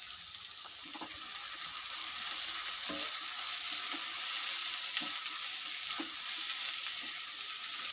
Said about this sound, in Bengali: হালকাভাবে ভেজে নিয়ে আমি এর মধ্যে সেদ্ধ করা আলুগুলো দিয়ে নাড়াচাড়া করে নিচ্ছি